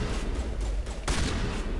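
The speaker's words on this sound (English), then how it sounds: "so let's switch shotgun" A shotgun fires in the Mass Effect Legendary Edition video game, producing loud, dense blasts that fill the whole stretch with a heavy boom partway through.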